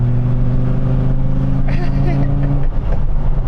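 A Dodge Viper pulls an easy overtake in 4th gear, its engine a loud, steady low drone that swells briefly as it passes, heard from inside the car under ongoing talk.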